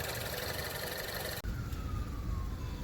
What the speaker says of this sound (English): So I'm letting the car idle, gave it a couple little revs.